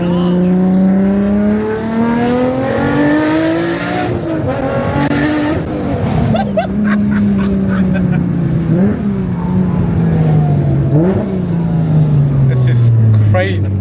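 Nissan Silvia S15 with a 2JZ engine, driven hard on a bumpy road, loud close engine note rising and falling through gears with sharp revs, heard from inside the car while occupants talk.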